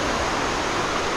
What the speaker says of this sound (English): There's already some waterfalls here.